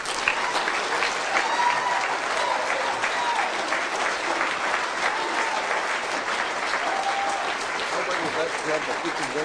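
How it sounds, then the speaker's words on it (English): A large audience breaks into sustained, dense applause that stays loud and even throughout, with voices faintly audible in the crowd. "please put your hands together for a thunderous applause"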